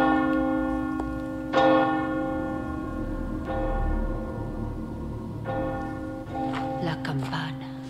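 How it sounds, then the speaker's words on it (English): A heavy church-style bell in the video game Resident Evil 4 Separate Ways tolls in slow, repeated strikes, each ringing out with a long sustained hum, with a few quicker clangs near the end. "She rang the bell."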